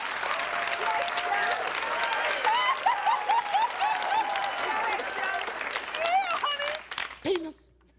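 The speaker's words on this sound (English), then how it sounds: "you're her husband, and you're clapping harder than anyone" Family Feud studio audience clapping and applauding loudly, dense sustained applause with cheers and whoops rising over it, tapering off near the end as a voice cuts in.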